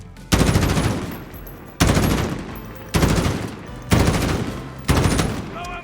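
Gunfire in an old-school Call of Duty match, fired pre-emptively at a spot where enemies are expected: five sustained automatic bursts of about a second each, loud and close, separated by brief pauses.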